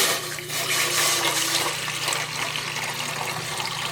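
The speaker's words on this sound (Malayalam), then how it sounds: "ഇനി ഇഡ്ഡലി പാത്രത്തിലേക്ക് ആവശ്യത്തിന് വെള്ളം ഒഴിക്കുക" Water is poured steadily into an idli steamer pot, a continuous splashing rush with no pauses, fairly close and loud, with no voices.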